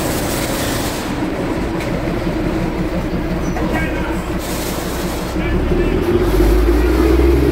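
Darjeeling toy train standing at Darjeeling station: a steady low rumble of rail machinery fills the scene, with a heavier surge of engine noise building near the end, mixed with crowd murmur and a voice talking over it.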